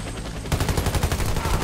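A burst of rapid gunfire erupts after a brief quieter moment, shots firing in a fast, steady rhythm, loud and close, in the video game Warface.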